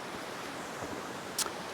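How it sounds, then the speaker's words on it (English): A river rushes near a rainy campsite, a steady, faint broadband wash that runs unbroken, with one short knock near the end. "I don't know if you can hear that, if you can hear the river."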